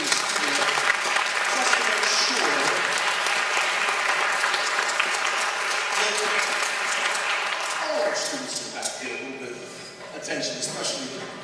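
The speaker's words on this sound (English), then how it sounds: "If you give her a nice round of applause" Audience applause at a spring school band concert, dense steady clapping filling the room for several seconds before thinning toward the end, with voices faintly underneath.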